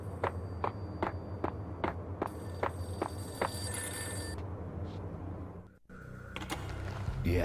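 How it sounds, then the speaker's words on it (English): Payphone in the Max Payne video game rings with a string of evenly spaced, bright electronic trills over a low ambient hum, then goes quiet after a few seconds. "A payphone started to ring."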